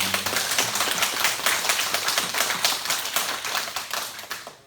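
A church congregation claps loudly together during an Easter Sunday sermon, a dense, rapid patter of many hands sustained throughout, close and without talk.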